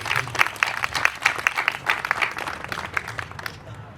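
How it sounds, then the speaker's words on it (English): A crowd at a congressional press conference applauding, steady rapid clapping from many hands that gradually fades toward the end. "Let's give them another round of applause, please."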